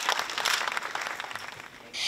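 Brief, close applause for a newly appointed children's mayor at a ceremony, a busy crowd clapping that dips slightly before a fresh burst at the end.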